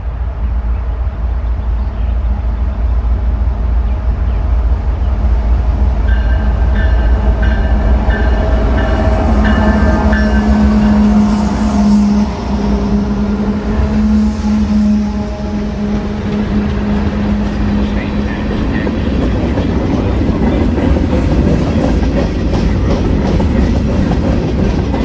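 A northbound freight manifest train rolls past loudly and steadily, rumbling with rhythmic clatter of cars on the rails and a brief horn-like tone midway.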